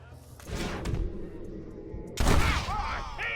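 Gunfire in Red Dead Redemption: a broad burst of shots around the half-second mark, then a sharper, louder volley near the two-second mark, with ricochet-like whines trailing after, mixed with game ambience.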